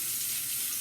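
Warm water runs from a bathroom tap in a steady, close hiss of flow with no pauses.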